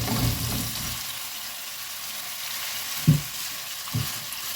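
Smoked sausages sizzle in a pan over medium heat while being fried with spices for stewed cabbage, a steady soft frying hiss with a few brief stirring knocks, fairly quiet and without talk.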